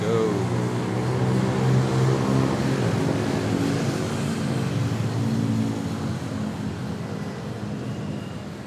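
Airliners at Manila Airport seen from a close plane-spotting position: a loud, steady jet roar that slowly fades over several seconds, broad and rumbling, with no clear speech.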